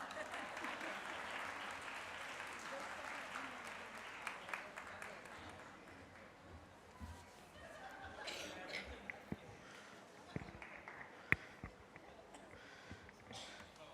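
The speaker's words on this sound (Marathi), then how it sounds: "मला माहिती आहे या टाळ्या तुम्हाला आहेत" Audience applause at a Rotary Club one-act play awards event, dense clapping that thins out into scattered claps and light chuckles, with some talk underneath.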